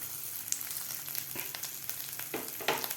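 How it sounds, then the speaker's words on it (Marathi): Crushed peanut powder roasts in hot oil in a pan with asafoetida. The sizzle is soft and steady, with a few sharper crackles and stirring scrapes near the end. "हे शेंगदाण्याचं कूट एक मिनिटभर परतून घ्यायचं आहे तेलामध्ये"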